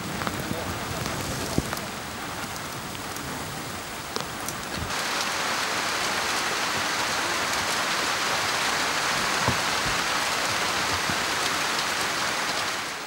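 Steady rain falls, a dense hiss of drops that thickens partway through, with occasional louder drips close by.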